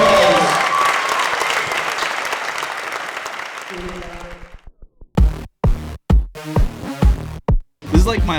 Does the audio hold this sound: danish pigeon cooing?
no